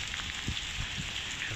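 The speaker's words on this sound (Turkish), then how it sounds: "Bereketli bir yağmurlu bir günde" Rain falling on a rainy day at a mosque, a dense steady hiss of drops with scattered closer patters, moderately faint and continuous, no voices.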